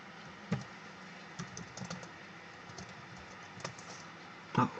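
Keyboard typing, soft scattered keystrokes with a couple of louder clacks, close up over a faint steady background hum.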